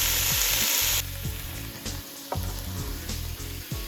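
Onion sizzles steadily in a pot as the base for beef stew, a loud close frying hiss punctuated by several soft thuds and scrapes from stirring, with no voices.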